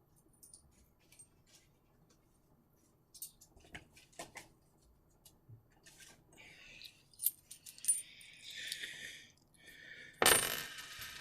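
Faint scattered clinks and metallic rattles of a coin landing and shifting, growing busier, then a louder sudden clatter near the end.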